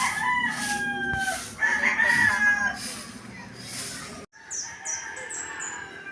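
Chickens cluck and a rooster crows loudly and close by on a backyard plot, the calls repeating over steady farmyard background noise, with a brief drop near the end before the clucking resumes.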